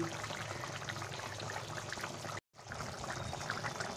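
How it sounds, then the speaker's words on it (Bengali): Ghee pouring into a pan of cauliflower curry, a steady close liquid pour with dense broadband trickle that cuts out briefly midway, then continues. "আমি ঘিটা দিয়ে দিচ্ছি।"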